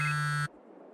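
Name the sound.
phone ringing in video game Farming Simulator 22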